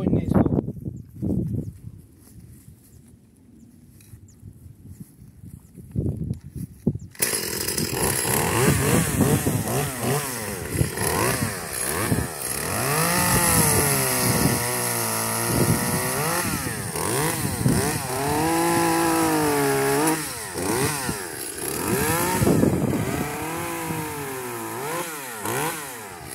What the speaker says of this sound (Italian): adesso metto in moto la mia piccola motoserra